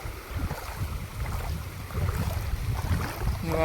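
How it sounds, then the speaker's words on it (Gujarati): Floodwater after heavy rain rushes through a farm field in a steady broadband wash, with gusts of wind buffeting the microphone throughout and no voices. "કેટલું પાણી જાય છે"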